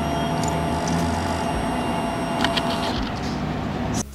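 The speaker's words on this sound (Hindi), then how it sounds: "ये गाड़ी ऑन करने का समय पे फ्यूल इंजेक्शन मोटर का आवाज़ आता" A Hero XPulse 200 4V motorcycle's fuel-injection pump whirs at ignition: a steady mechanical hum lasting about four seconds before it cuts off, with no engine running.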